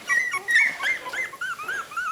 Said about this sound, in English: These are well socialized puppies.